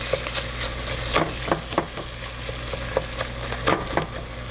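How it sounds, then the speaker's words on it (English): Ground meat and green peppers browning in a frying pan, a steady close sizzle broken by repeated sharp scraping clicks of stirring. "I'm going to put the green peppers in so it can cook along with the meat. And I'm just going to brown this."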